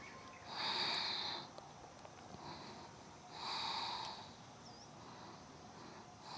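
Two slow, deep breaths during a yoga pose, each a long airy hiss through the nose, close and soft with a quiet pause between them.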